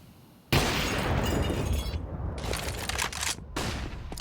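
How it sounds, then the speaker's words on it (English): A grenade goes off in Counter-Strike on the Nuke map during a DreamHack Showdown match, landing as a sudden loud blast that gives way to a dense burst of gunfire and rattling shots. "Ooh, that's a good nade."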